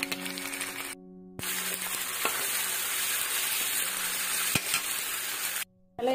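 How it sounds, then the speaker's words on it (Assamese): Pork frying in oil with sour leaves, a steady bright sizzle with occasional stirring clunks, broken by brief silent gaps, close and moderately loud, no talking. "গাহৰিখিনি ইয়াতে দি পিনে ভাজোঁ আৰু ভালদৰে"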